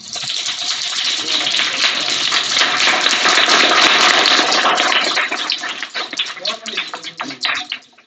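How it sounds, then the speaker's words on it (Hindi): Students in a government middle school classroom perform drizzle-style clapping for a guest, starting as soft scattered pattering, swelling into dense loud applause, then breaking into sparser claps and tapping as it falls away. "रिम झिम ताली बजा दीजिए सर के लिए।"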